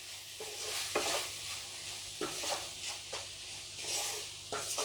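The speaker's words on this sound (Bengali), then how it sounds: "এবার দুধের সঙ্গে এটাকে খুব ভালো করে মেশাতে হবে।" Atta laddu mixture being worked together with a little milk in a pan or bowl, soft rhythmic scraping and rubbing strokes at roughly one-second intervals, quiet and close, no talking.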